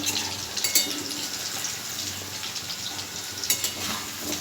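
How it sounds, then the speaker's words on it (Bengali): Steamed potatoes fry in a pan with a steady, crackling sizzle, close and continuous, with occasional louder pops and stirring. "ভাজছি।"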